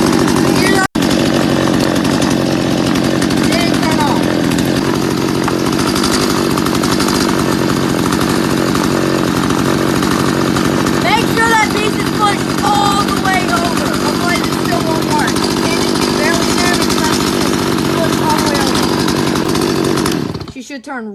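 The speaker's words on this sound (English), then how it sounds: "when the chainsaw's on it's real loud and you can't really hear my voice" A STIHL chainsaw with a fault that keeps it from switching off runs loud and steady at close range for about twenty seconds, with someone talking under the engine noise, then the engine cuts out.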